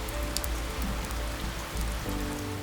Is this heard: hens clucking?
no